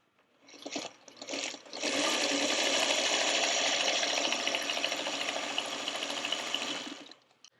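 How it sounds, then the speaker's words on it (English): A sewing machine stitches a quarter-inch quilt seam, a couple of short bursts, then a steady, fast, close whir lasting about five seconds before stopping. "go sew this with another 1/4 inch seam allowance"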